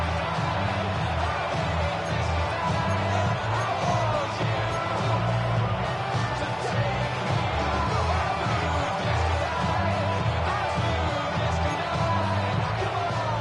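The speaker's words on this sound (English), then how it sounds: "This crowd doing all they can." Football stadium crowd during a Patriots game, a dense, steady roar of cheering and yelling filling the space, with a pulsing rhythmic chant or music beat repeating underneath.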